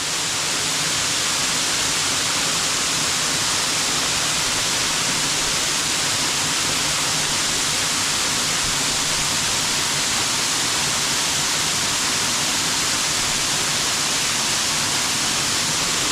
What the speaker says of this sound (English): That's it falling down those rocks, causing all those other little waterfalls.